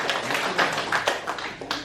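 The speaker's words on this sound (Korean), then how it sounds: "박수 한번 쳐주셔요." Audience clapping at a church gathering, a short burst of scattered hand claps from a group, moderately loud and slightly uneven, lasting under two seconds.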